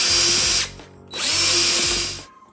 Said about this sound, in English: now you're gonna pull out these two T20 screws